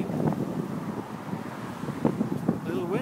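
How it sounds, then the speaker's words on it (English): Gusty wind rumbles against the microphone on the Glenwood Canyon bike path beside a highway, a low steady buffeting with a few sharper gusts and faint background noise. "A little windy right now"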